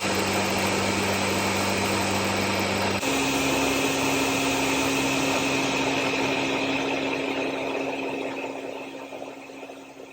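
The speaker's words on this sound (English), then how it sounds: "It's blending really smooth on the front half." A blender whirs continuously while blending pumpkin muffin batter for gluten-free, protein-packed muffins. The loud, close motor drone shifts pitch after a few seconds and eases slightly toward the end.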